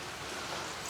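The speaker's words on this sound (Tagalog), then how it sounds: "Lumalakas na naman ulan." Heavy rain keeps up a dense, steady hiss at a mini farm struck by a strong storm, even and continuous through the moment, with no voices heard.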